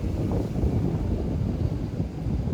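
Wind gusts across an outdoor microphone at sunrise, making a continuous low, rumbling buffet with no one speaking.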